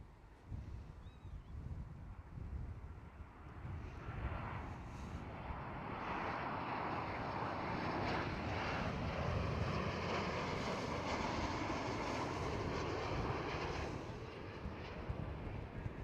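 A KLM Boeing 737 at Amsterdam Schiphol airport produces a broad jet-engine roar that swells over several seconds and then holds steady and loud, with wind rumble mixed in and no talking.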